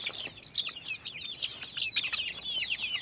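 A group of chickens clucking and chirping softly nearby, a busy overlapping chatter of short calls with faint pecking sounds.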